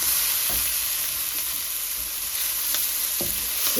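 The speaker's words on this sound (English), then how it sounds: "this is frying okra." Okra frying in a hot pan with onion in oil, a continuous loud sizzle with a few faint clicks of stirring and no talk.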